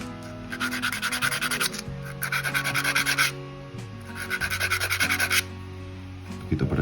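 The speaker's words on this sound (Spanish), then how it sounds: "Comprobamos y lijamos un pelín." Sandpaper works a small wooden grating part for a model of the ship Santísima Trinidad, making close, quick rhythmic scratching strokes in three separate bursts over soft background music.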